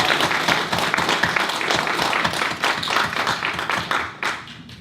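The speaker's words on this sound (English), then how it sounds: "Let's give this gentleman a hand" Audience applause fills a lecture hall after a life-coaching talk, dense sustained clapping from many hands that stays loud and steady before tapering near the end.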